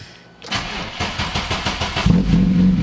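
A car engine cranks with rapid rhythmic pulses, then catches and settles into a steady running rumble, loud and close.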